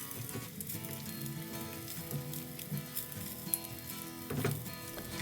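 Scrambled eggs and salami sizzle in a pot while being stirred, a soft crackling hiss with occasional scraping clicks, fairly faint and close, with no voices.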